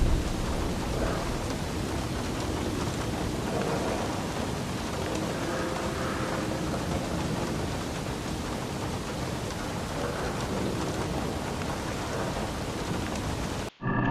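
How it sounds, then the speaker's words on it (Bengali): Heavy thunderstorm with steady, dense rain pouring down alongside low rumbling, a constant loud wash of noise that continues unbroken before cutting off abruptly near the end. "এরপর প্রচন্ড ঝড় ঝড় বৃষ্টি হয়েছিল"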